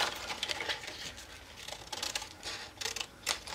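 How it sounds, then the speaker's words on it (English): Scissors cutting by hand through a piece of paper card, a series of quiet, close crisp snips in an uneven rhythm with no talking. "I'm gonna take my scissors and just manually cut it out."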